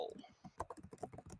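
Computer keyboard typing heard under conversation during an online tabletop game session: quick, uneven clacking keystrokes mixed with speech, fairly close to the microphone.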